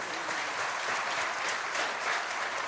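An audience at a spiritual gathering clapping steadily, dense and continuous applause from many hands close by, with no clear voices over it.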